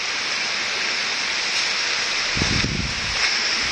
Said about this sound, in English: Hear the water running when you don't hear my squishy tevas on the ground.